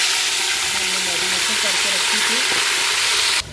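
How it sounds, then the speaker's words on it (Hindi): Marinated mutton dropped into hot oil in a pressure cooker, giving a loud, steady sizzle and hiss that fills the clip, with someone speaking briefly over it before it cuts off. "अब इसमें मैं मटन ऐड करूँगी जो मैरिनेशन करके रखी"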